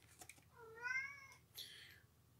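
A domestic cat gives one quiet drawn-out meow followed by a shorter second cry, close by in a calm indoor room.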